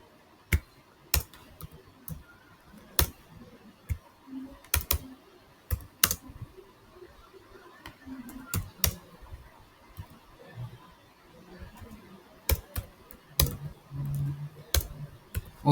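Someone types Java code on a computer keyboard in sparse, irregular keystrokes: sharp individual clicks with short gaps and occasional quick clusters over a quiet room.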